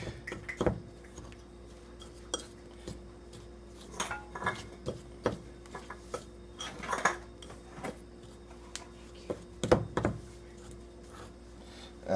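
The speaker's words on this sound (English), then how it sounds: "For this part I use a fork." A fork scraping and clinking in a bowl while mixing cinnamon roll filling with butter that is still too firm, giving scattered uneven taps and scrapes at close range with quiet pauses between.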